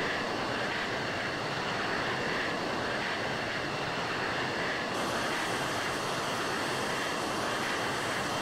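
Steady broadband jet engine roar of a military jet taxiing toward the runway in a flight simulator game, continuous and loud throughout with a slight shift in tone midway, no voices.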